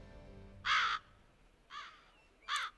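Ravens in the video game The Witcher 3: Blood and Wine caw three times, each a loud, harsh call of under half a second, separated by quiet pauses.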